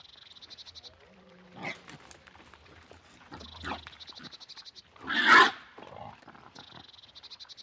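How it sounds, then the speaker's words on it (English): Deep animal grunts and rough roaring bursts from rutting wild boars in winter, a few loud outbursts breaking through a quieter outdoor background with distant insect-like buzzing. "The noise of the rutting tuskers does not bother the deer"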